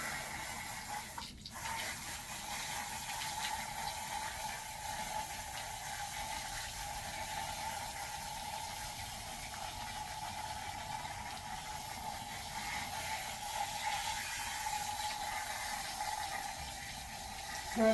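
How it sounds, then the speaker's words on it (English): Running water streams steadily while a Goldendoodle is rinsed during a bath, a continuous moderate gush with a brief knock near the start and no talking. "I'm going to go ahead and give our bear guy a little rinse"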